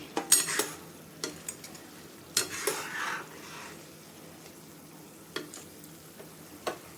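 Boondi goes into hot sugar syrup and is mixed with a spoon: faint, irregular clinks and scrapes against the pot, with a soft wet swish, in a quiet kitchen without speech.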